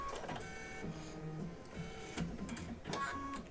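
Rapid mechanical whirring and tonal stepping of a computerized embroidery machine stitching out quilt leaves, close and steady with brief changes in pitch.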